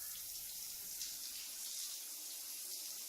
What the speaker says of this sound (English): So from the bathroom, I could faintly hear the sound of the shower.